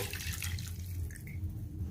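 Water poured into a fish masala for an Odia raw fish besara, a steady close splashing flow that runs without a break and with no voices.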